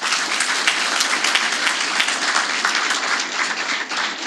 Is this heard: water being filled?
no